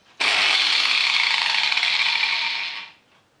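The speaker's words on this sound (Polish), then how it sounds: "A wystarczy, że obrócę szlifierkę i zmienia się kierunek obrotów." Angle grinder switched on and spinning freely, a sudden loud high whirring that holds steady for a few seconds before winding down and fading out.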